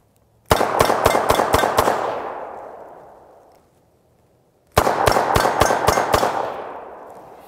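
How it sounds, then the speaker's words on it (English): A Dan Wesson 715 revolver fired double action as fast as possible, two strings of six sharp, loud shots in quick succession, each burst trailing off into a long ringing decay before the next begins. "I'm just gonna cut 6 loose as fast as I can,"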